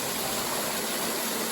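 Water pours and splashes continuously at the unusual waterfall feature in Falkland, Fife, a dense, hissing rush heard up close with no breaks.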